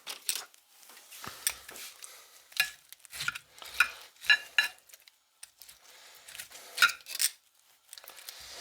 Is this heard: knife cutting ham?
yes